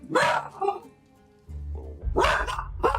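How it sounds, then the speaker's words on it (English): A dog barking close by, a few loud sharp barks with a short yip, broken by a brief quiet gap and a low rumbling growl or noise. "disobedient dog"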